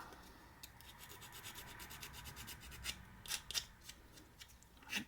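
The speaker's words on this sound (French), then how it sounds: "On peut limer un peu sur les côtés." A small hand file rasps along the edges of a shrink plastic keychain in faint, uneven strokes, with a few sharper scrapes toward the end.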